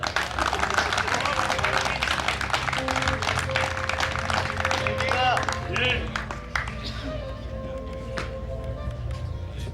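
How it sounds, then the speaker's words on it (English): Dense crowd applause at a conference award ceremony fills the whole stretch, steady and loud, with a slight drop partway through as the clapping continues. "you can clap for Ganesh."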